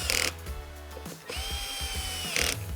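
A power drill drives fasteners into the pump top of a VG12 (VG2) during a rebuild, two short bursts of whirring motor with a pause between, close and loud.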